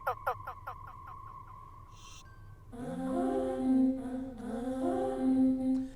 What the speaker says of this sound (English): So I added this vocal effects that sounds something like this.